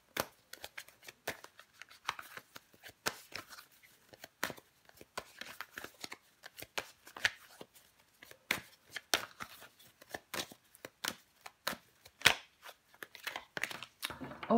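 Tarot cards are shuffled close by in rapid, crisp bursts of riffling and slapping that come in uneven rhythmic runs, with no one speaking.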